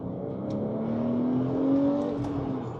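A Porsche 911 engine hums steadily while driving, with a rising whine building through the middle and easing off at the end, continuous and fairly close with no talk.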